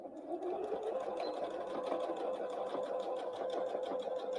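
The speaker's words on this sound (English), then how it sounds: "And I'm just stitching all the way to the end" A sewing machine stitches Christmas tree napkins in a steady, continuous whir at close range, running without pause from start to end with no talk over it.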